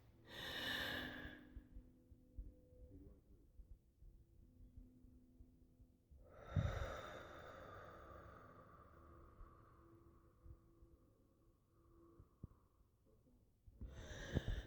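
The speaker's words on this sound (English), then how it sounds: "I'll do a quick demonstration of a full breath for you." A person demonstrates a full deep breath: a sharp nasal inhale, a long drawn-out exhale trailing off over several seconds, then another quick intake, all close and quiet with no talking.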